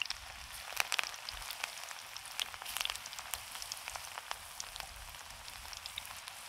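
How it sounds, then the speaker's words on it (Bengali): Chicken pakora deep-frying in hot oil, a continuous soft sizzle dotted with sharp crackles and pops, steady and close with no talk. "আর এই পকোড়াটা কিন্তু অবশ্যই ডুবো তেলেই ভাজতে হবে"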